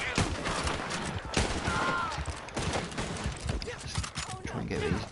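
Gunfire in the Red Dead Online video game, a dense, loud stretch of rapid overlapping shots and impacts that keeps going throughout, with voices talking over it.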